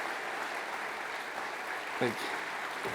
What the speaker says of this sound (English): The audience continues to applaud here at the Bella Concert Hall for the Luminous Voices return to the stage.